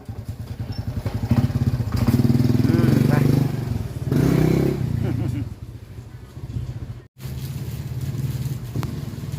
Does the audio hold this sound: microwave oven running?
no